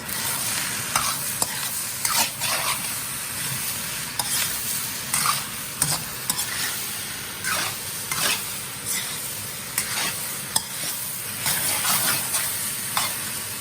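Shrimp and vegetable fried rice tossed in a wok with a curved metal spatula: a steady sizzle broken by repeated rhythmic scrapes and clanks of the spatula against the pan, close and lively.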